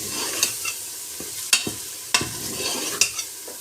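Keema mince with ground cumin and dried coriander frying in a pan, a steady close sizzle broken by four or five sharp scraping stirs of the spoon at irregular intervals.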